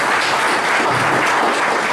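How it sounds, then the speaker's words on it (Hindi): A crowd at a motivational talk claps hard and steadily, a dense wash of applause filling both seconds with no voices. "तो एक बार जोरदार तालियां अपने लिए बजा दो।"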